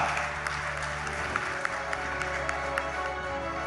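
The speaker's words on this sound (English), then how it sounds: "Can we have a loud round of applause, ladies and gentlemen" An audience applauds to welcome Neeraj Chopra, India's Olympic gold medallist in athletics, at a public event. The clapping is steady and sustained, dense and even throughout, with a low background hum beneath it.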